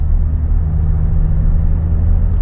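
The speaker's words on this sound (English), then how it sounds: "this thing have a resonant delete and a downpipe, so it sounds louder than the Rs5" An Audi S5 fitted with a resonator delete and downpipe exhaust holds a deep, steady idle rumble close to the microphone, constant and loud with no talking.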